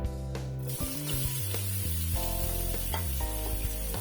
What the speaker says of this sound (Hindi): अब इसके अंदर हम सबसे पहले अपने अनियन ऐड करेंगे